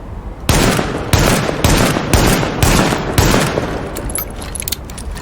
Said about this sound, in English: that's how long it takes for the Magnum to reload